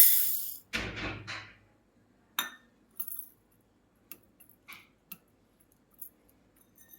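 Dry dal is poured into a pressure cooker in one short rattling rush, followed by quiet, scattered metallic clinks of the cooker and utensils with silence between.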